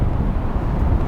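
Strong wind blows outdoors up north by icy water, a continuous rough low rumble buffeting the microphone at fairly high level, with no talking.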